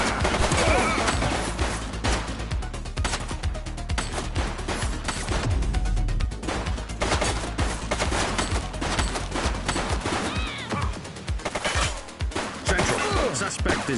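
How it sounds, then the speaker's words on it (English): Video game gunfire bursts in dense volleys of rapid shots and automatic fire, loud and close, with a few brief pauses between barrages. "Shots fired!"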